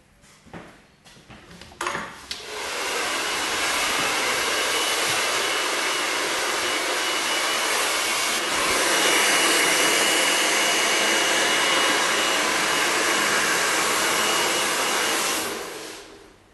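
A handheld hair dryer blow drying hair during a hairdressing session roars steadily and loudly for most of the stretch after a few short handling clicks, then cuts off near the end.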